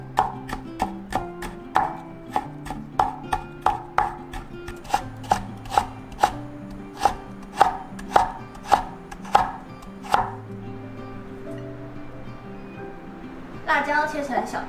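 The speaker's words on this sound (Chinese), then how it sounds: "老姜跟红萝卜切成丝状" A knife chops ginger and carrot into strips on a board, with sharp, regular close knocks at a quick steady rhythm that stop near the end, over faint background music.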